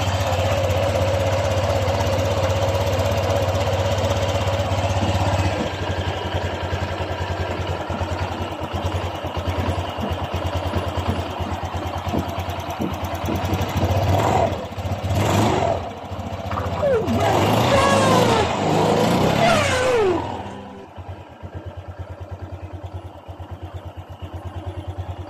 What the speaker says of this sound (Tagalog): Ito naman ang tunog ng kanyang makina pagkatapos natin mapalitan ng bagong connecting rod.